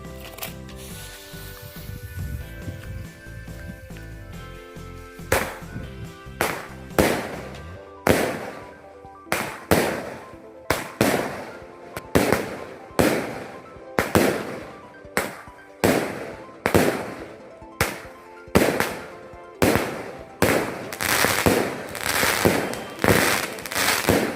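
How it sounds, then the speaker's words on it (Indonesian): A box of 25-shot roman candle fireworks firing a long, steady series of loud booming shots, roughly one per second, after a crackling fizz at the start, at night. "Ini Roman candle jenis kotak teman-teman."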